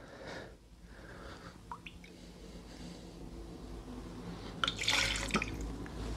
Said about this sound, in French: Donc on va commencer ça par mettre le whisky canadien.